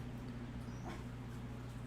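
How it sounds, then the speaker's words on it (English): Dogs whimper in a brief, soft whine, a little distant, over a steady low background hum. "The dogs are talking."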